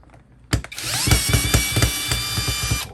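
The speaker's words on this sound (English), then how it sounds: "Seyvum drill." A Seyvum 12V cordless brushless drill drives a screw into wood, starting with a sharp burst and then whirring steadily with rhythmic ratcheting pulses, loud and close.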